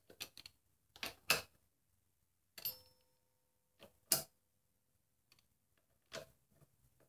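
Ratchet clicks from bolts being tightened to about 20 foot-pounds on a VW 09G transmission being reassembled, heard as several short bursts of rapid ticking with quiet gaps between, close and fairly faint.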